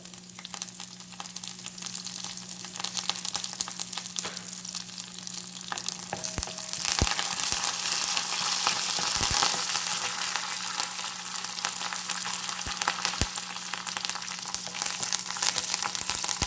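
Curry leaves crackle and sizzle in hot oil while cooking chicken pepper fry, a continuous close frying hiss with sharp pops and a brief burst as the leaves hit the pan, no talking.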